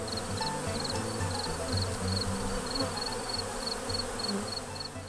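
A dense, steady buzzing of many honey bees at an open hive fills the clip close by, continuous and droning without pause, with no voices over it.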